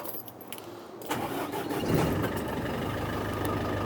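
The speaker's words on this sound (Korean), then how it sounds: "시동 한번 걸어봐 드릴게요." A 3.5-ton cargo truck engine cranks and turns over, then settles into a steady, loud idle rumble close by.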